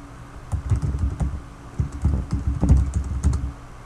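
Rapid typing of a password on a computer keyboard, a dense run of close, crisp key clicks in uneven bursts with short pauses, no speech over it.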